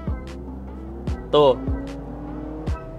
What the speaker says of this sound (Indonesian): Itu tadi suara kencang itu dari simulasi speaker suara mesinnya.